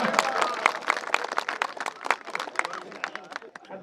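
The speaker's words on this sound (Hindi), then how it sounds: "ये ओरिजिनल पोएट्री, इसमें गप नहीं है ना, तो ताली बजाइए" An audience at a Hindi comic poetry recital claps for the poet, a burst of scattered hand claps that gradually thins and fades over a few seconds.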